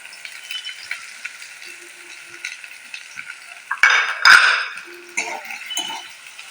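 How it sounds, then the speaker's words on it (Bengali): Ginger, garlic and chopped green chilli frying in a pan give a faint, light sizzle, broken by a loud clatter and scrape of a utensil stirring against the pan midway, then soft tapping. "আদা রসুনটাকে সমানভাবে ভাজতে থাকবে, কাঁচা গন্ধটা যাওয়া অবধি"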